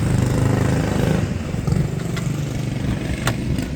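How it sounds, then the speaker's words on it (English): Small cyclekart engines buzz and putter nearby in a continuous rough drone, with a few clattering ticks, like little motor vehicles driving around close by. "You hear the other cars riding in the background."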